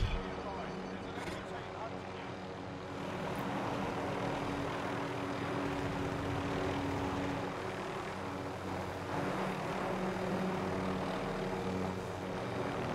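Helicopter in the Warzone battle royale game, a continuous droning rotor and engine roar throughout, moderately loud and steady with slight swells, mixed with other in-game sounds.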